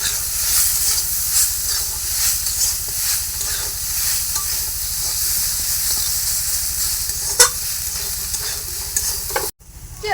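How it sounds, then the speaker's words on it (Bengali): A paste of ground cumin, ginger and chilli fries in hot oil for a spicy banana flower curry, giving a steady close sizzle and hiss with occasional stirring scrapes throughout, no voices. "এই মশলাটা দিয়ে দেবো। কিছুক্ষণ কষিয়ে নেবো এটা।"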